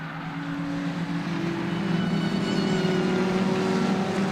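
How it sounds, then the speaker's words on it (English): A supercharged Mini race car at Donington Park in a 750 Motor Club race, its engine wailing in a steady, rising drone with a prominent whine, loud and continuous with no talk over it. "Supercharger on the Mini wailing away as well. You can hear that."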